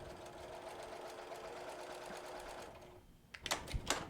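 A sewing machine runs a continuous steady hum stitching a quilt block seam with no back stitching, then stops, followed by a few quick clicks and handling noises close by.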